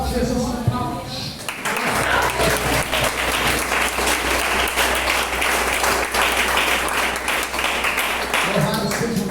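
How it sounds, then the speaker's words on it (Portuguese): Sustained applause from a large church congregation, dense and steady clapping for several seconds with a faint hum underneath. "exalte Jesus com palmas."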